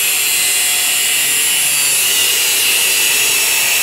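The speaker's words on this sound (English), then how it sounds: "With an angle grinder with a cutting disc on it." An angle grinder with a cutting disc cuts through metal for a rocket stove build, a loud continuous high-pitched shriek that holds steady throughout.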